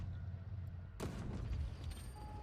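A missile strike in World of Tanks Blitz hits as one sharp, close explosive crack, then a rumbling decay over the ongoing low battle ambience.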